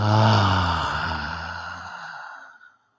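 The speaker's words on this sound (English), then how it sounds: "And exhale fully through the mouth." A deep, slow exhale through the mouth during a guided breathing practice: one long breathy sigh with a low voiced start, fading gradually over about two and a half seconds into silence.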